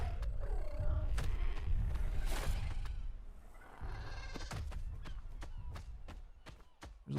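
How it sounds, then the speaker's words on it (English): Sheep bleat several times in the video game ARK Survival Ascended on the Valguero map, a cluster of calls early on, followed by sharp footstep-like thuds and movement noises. "There's a lot of sheeps."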